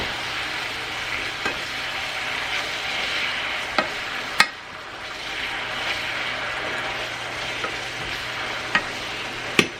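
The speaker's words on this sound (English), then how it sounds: "And just kind of stir that all in here." Brown sugar being stirred into a sizzling pan for a budget noodle dish, a steady bright frying hiss throughout with a few sharp scraping clicks of the utensil against the pan.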